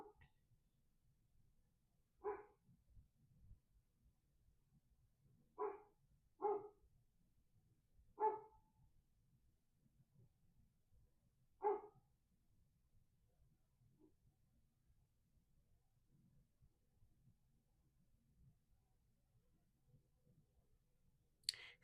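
A dog gives a few faint, scattered barks, about five single yaps spread over a long stretch of near silence, sounding distant.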